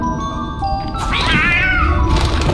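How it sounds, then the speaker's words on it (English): A cat in the video game 11-11: Memories Retold gives one clear, drawn-out meow, close and loud over a steady ambient game background. "Why is that cat meowing?"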